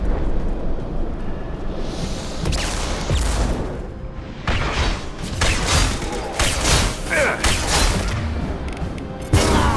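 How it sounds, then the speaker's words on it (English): A high-impact weapon firing in Mass Effect 2 on Insanity difficulty during Grunt's recruitment, loud blasts and rumbling booms layered over continuous battle noise, with bright crackling bursts toward the end. "Firing a high-impact shot!"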